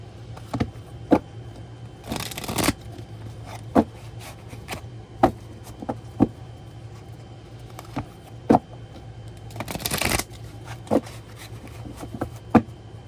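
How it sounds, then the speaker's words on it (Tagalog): Oracle cards being shuffled by hand, two long papery riffling bursts separated by scattered sharp taps and flicks of cards, close and fairly quiet with no talk. "Balasahin po muna natin ang ating oracle."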